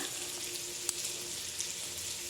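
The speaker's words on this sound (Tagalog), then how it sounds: "Kailangan slow fire siya para magiging maluto at hindi biglang masunog." Dinuguan, pork cooked in blood stew, sizzles gently over a slow fire, a soft continuous frying hiss with a couple of faint ticks.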